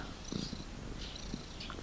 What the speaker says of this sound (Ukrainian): як починає муркати так голосно